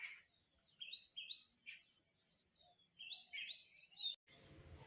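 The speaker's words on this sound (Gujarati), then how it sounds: "શાંત વાતાવરણ હોય ને એટલે ચકલીનો અવાજ કેવો મસ્ત આવે છે" Sparrows at a calm Sasan Gir resort give brief rising chirps in scattered pairs above a constant shrill cricket-like hum, then the sound cuts off abruptly.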